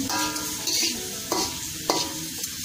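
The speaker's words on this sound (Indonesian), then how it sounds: "pertama-tama kita masukkan bawang putih terlebih dahulu digoreng" Garlic frying in a pan for a toddler's meal: a close, steady sizzle broken by several stirring scrapes and clinks of a utensil against the pan.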